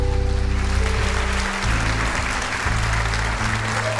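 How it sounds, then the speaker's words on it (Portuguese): Church congregation applauding, a dense, sustained round of clapping from many hands over a low musical accompaniment, steady and loud from start to finish. "Vamos aplaudir a Deus pela vida dessas pessoas."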